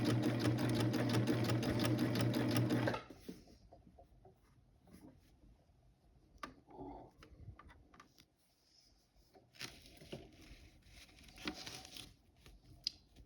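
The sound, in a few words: cover stitch sewing machine stitching bottom hem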